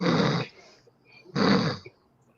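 A voice imitates snoring with two rough, rasping snorts separated by a short pause, fairly close and loud.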